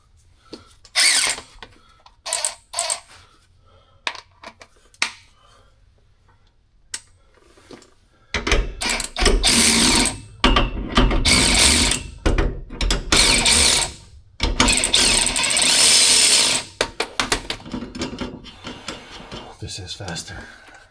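A ratchet socket wrench tightens bolts on an 8'x20' cargo trailer being converted into a camper, first in short separate clicking bursts, then in long, loud, rapid ratcheting runs.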